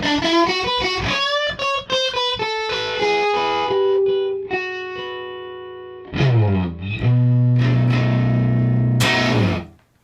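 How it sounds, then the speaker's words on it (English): Electric guitar through a hand-wired Fender Princeton Reverb turned up to 10, raw amp distortion with no reverb or pedal, quick picked riffs followed by loud sustained chords ringing out before cutting off. "the amp is on 10, there's no pedal involved, this is just the distortion from the amp"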